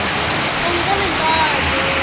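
Heavy rain pours steadily near a hanging bridge outdoors, a dense, loud, continuous hiss of falling water with no breaks across the whole stretch.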